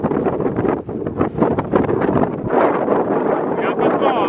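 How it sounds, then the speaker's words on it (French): Strong mountain wind between Chamonix and Zermatt buffets the microphone in loud, steady rushing gusts that roar without letup. "Il y a un peu de vent, hein."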